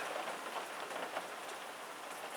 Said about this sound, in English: You can probably hear the pitter patter of the rain on the roof.